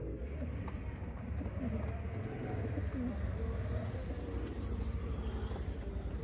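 Pigeons coo softly in the background amid a steady low rumble and general ambient noise, their murmuring calls repeating throughout without a clear break.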